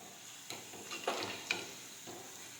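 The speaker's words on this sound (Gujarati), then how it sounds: "આ રીતે આપણે ભજીયા છે તે પાડી દઈશું તેલમાં" Kumbhaniya bhajiya fritters fry quietly in oil, a soft low sizzle broken by a few sharp scrapes and clinks from turning them.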